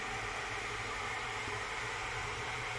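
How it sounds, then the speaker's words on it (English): A steady, even rushing hiss like a kettle coming to the boil, from a kettle boiling during outdoor off-road camp cooking, constant throughout with no talking. "So sorry about the noise, I just got the kettle boiling."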